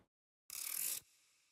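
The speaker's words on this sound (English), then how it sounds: "this clock winding up effect, music box winding up. Actually, it sounds like this." A brief burst of rapid mechanical clicking, a music box winding-up effect in a melodic dubstep track, lasts about half a second, then fades into a faint, soft wash.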